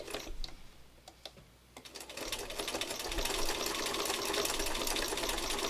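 A home sewing machine runs a fine, narrow, close-set zigzag stitch, with a steady mechanical whir and rapid needle chatter that starts in short bursts and then settles into continuous running.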